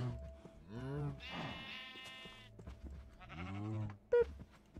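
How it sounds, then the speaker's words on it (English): Cows in the Minecraft video game, giving several drawn-out, harmonic moos in succession at moderate volume, with a brief sharp blip near the end. "Those cows are really starting to get annoying."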